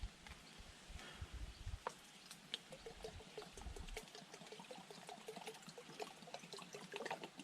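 Creek water trickling and splashing as it is poured into a container outdoors at a campsite, a steady liquid stream with soft gurgles running throughout, fairly quiet and close.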